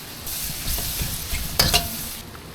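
Garlic, onion, mushroom and pork cubes sauté in hot oil, giving a steady close sizzle broken by stirring scrapes and a few sharper clatters of the utensil against the pan, with no talk.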